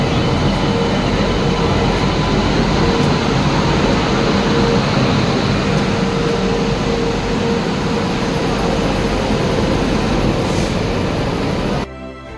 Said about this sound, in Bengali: আমাদের জম্মু তাই এক্সপ্রেস চলে এসছে ফাইনালি